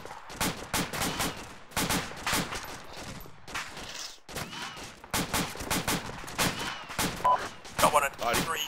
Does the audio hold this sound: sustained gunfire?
yes